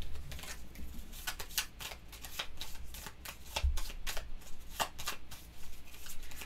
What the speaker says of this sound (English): Shuffle the villain trash into the villain deck.